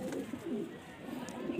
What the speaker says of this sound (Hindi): कबूतर ये है चीना कबूतर